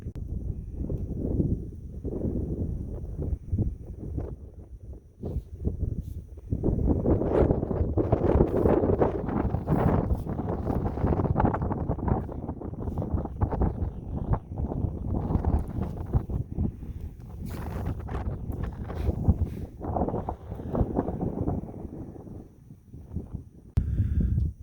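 Wind blowing at a desert camp spot on the Mojave Trail, loud continuous gusting and buffeting across the microphone that rises and falls in strength, rumbling low and sustained throughout.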